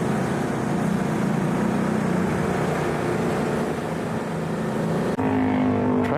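Large motorcycle riding through road traffic, a continuous close engine drone with wind rush and surrounding car noise, briefly shifting near the end.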